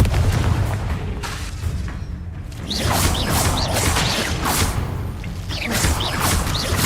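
Spell blasts in the Hogwarts Legacy video game come as repeated booming impacts and whooshes over a dense, rumbling game soundscape, loud and near throughout.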